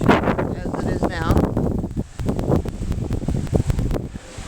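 Wind blowing outdoors ahead of a storm, rustling and buffeting the microphone continuously while a person talks.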